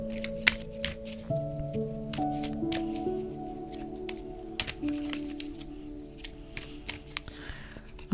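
An Osho Zen tarot deck being shuffled: soft repeated riffling and tapping of cards, close and quiet, layered over a sustained musical drone.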